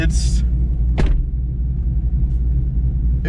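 Loud, steady exhaust rumble from a car with a LUND Racing ghost cam tune fills the whole stretch, with a brief thump near the middle and a short hiss at the start.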